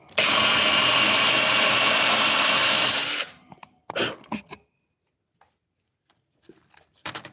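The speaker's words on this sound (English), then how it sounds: "Drill a hole." A power drill bores a hole for about three seconds, loud and close, then stops, followed by a few short knocks and handling sounds.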